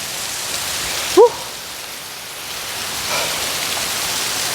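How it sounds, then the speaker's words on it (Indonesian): A forest waterfall gives a steady, even rush of falling water, close and continuous, with one brief sharp chirp early on. "di sini saya menemukan air terjun, kawan-kawan."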